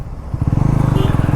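A Bajaj Pulsar NS400Z motorcycle being ridden, its engine close and loud with a fast, even pulsing note that rises into a steady throb after a brief quieter start.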